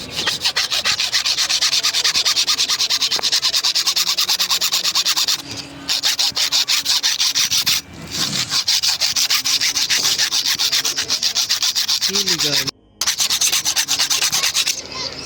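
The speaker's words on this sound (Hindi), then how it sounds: "तो आरी ब्लेड से काटते हैं" Nails being cut through with a hacksaw blade in a graveyard, a steady loud rasping back-and-forth sawing that runs almost continuously with a few brief pauses.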